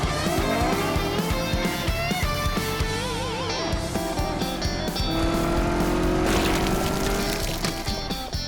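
Cartoon car revving hard and accelerating with squealing tires, a loud sustained engine whine and screech filling the whole stretch over a busy musical score.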